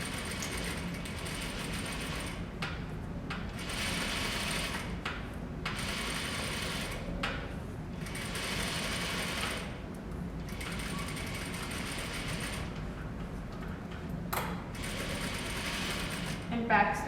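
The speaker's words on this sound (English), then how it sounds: "at the top of my stitch, I'm going to go forward a few stitches, then back stitch, and then continue my way down the rest of the seam" A sewing machine stitches a plain seam, going forward a few stitches, back-stitching, then continuing: a close, steady mechanical rattle of needle and gears running almost continuously, with short stops between runs.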